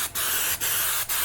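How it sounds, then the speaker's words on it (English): Spray adhesive hisses from an aerosol can onto pieces of tail light gasket material in three close, loud, sustained bursts separated by brief pauses. "I actually will spray it the opposite way"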